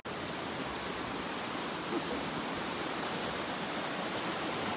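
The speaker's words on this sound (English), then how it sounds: "So now we're going to go to the waterfall and see it up close." Waterfall in El Valle, Panama, a steady broad rushing roar of falling water heard up close and unbroken, with no voices.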